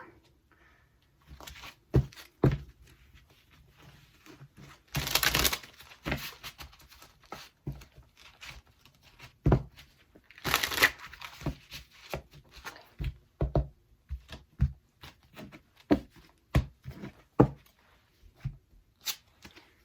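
Tarot cards shuffled by hand in repeated riffles and soft flicks, with two louder bursts of riffling, close and crisp with no talking.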